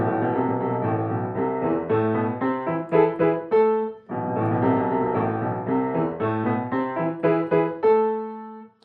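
Fast piano staccato passage played without striking from above, quick repeated notes and chords that sound somewhat smeared rather than crisp, the same phrase played twice with a held final note each time.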